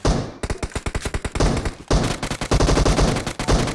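Rapid bursts of automatic gunfire from the video game PUBG Mobile crackle in quick successive volleys with a short pause midway, loud and dense.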